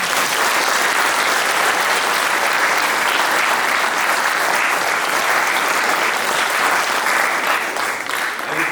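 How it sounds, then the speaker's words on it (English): An audience applauds at an amateur dramatic club play in a theatre, sustained loud clapping from a large crowd that holds steady and eases slightly near the end. "I think that deserves a clap."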